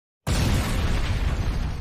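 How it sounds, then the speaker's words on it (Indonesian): A single loud explosion in an anime story bursts out suddenly and rumbles on with a heavy, roaring tail. "Ledakan itu berasal dari tempat Fiorentina"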